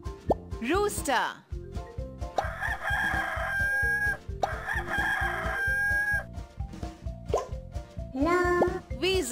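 A rooster crows over bouncy, rhythmic music, with a singing voice nearby; the crow may be imitated by the singer.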